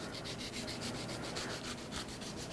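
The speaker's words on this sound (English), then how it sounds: "since this is serrated, I need to use a sawing action. And I'm going to saw through some of this membrane" A serrated knife sawing through the inner membrane of a red pepper in a restaurant kitchen, a rapid back-and-forth rasping in even strokes, close and steady with no talking.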